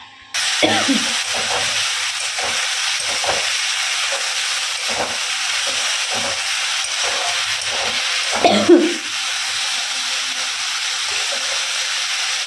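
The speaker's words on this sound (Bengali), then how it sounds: "আগে এখানে আলু ভাজাটা বসাই তারপরে বাকি কাজ করবো" Potatoes frying in a pan at home, a loud continuous sizzling hiss held steadily close by, broken by occasional stirring knocks and scrapes of the utensil.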